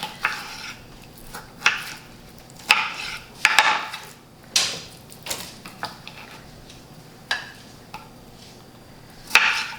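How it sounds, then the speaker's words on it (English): Potatoes being cut with a knife on a cutting board in a home kitchen, with sharp irregular chops and clacks spaced about a second apart, fairly close and with no talking. "just going to chop them up just so they will all fit in here"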